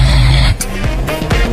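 A heavy snore cuts off abruptly, then breathing resumes in short, uneven catches and snorts, the pattern of snoring with breathing pauses.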